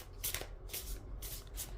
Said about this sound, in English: I'm just going to shuffle a bit more and then I'm going to show you what pops out